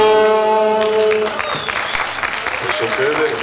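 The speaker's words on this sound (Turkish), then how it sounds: "Az da olsa alkışlarımız güzel." Applause from an audience at a Trabzon Days stage event on a music stage, breaking out at moderate loudness over a fading sustained musical tone and continuing as a dense, steady patter.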